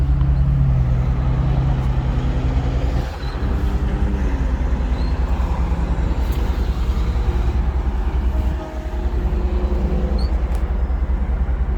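A 1985 Rolls Royce Corniche cruising on the road, steady engine and road rumble heard from inside the cabin, continuous and fairly loud with slight dips in level.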